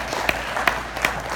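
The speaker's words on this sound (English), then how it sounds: "I want to give a good hand of applause" A few scattered claps of audience applause at a corporate customer-success talk, sharp separate hand strikes about every third of a second, moderately loud in a room.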